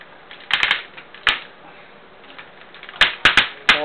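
Plastic parts of a Transformers Cybertron Supreme Class Starscream figure snap and click as its wings fold down, a few sharp close clicks in quick clusters over near silence.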